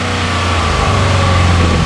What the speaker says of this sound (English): I'm gonna turn it on and give it a little bit of rev to see if you can hear the way the throttle body opens and closes